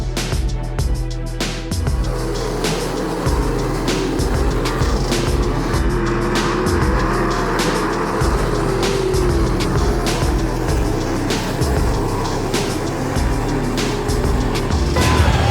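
Sprint cars race around the dirt oval at Lincoln Park Speedway in Putnamville, Indiana, engines roaring in a dense, rising and falling pack, with sharp passes and crackles layered over the loud continuous noise.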